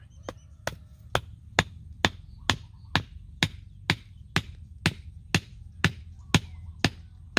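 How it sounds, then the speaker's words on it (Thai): A support stake is hammered into the ground beside a newly planted sweet leaf (pak wan) cutting in a garden: about sixteen sharp, evenly spaced blows, close and fairly loud, over a low steady hum. "ตอกหลักยึดสักหน่อยนะครับ"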